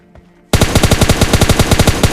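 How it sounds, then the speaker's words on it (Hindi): Automatic gunfire from a bot in PUBG Mobile Lite, a loud rapid burst of evenly spaced shots that starts abruptly after a brief quiet moment and keeps firing steadily. "तभी मेरे पे एक बॉट फायर करता है।"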